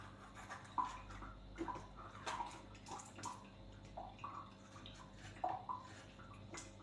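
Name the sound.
water running while washing food for kufta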